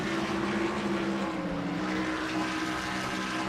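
Pontiac Grand Prix stock car at full throttle in a NASCAR-style racing video game, a steady loud engine drone holding a constant pitch for a few seconds with no voices.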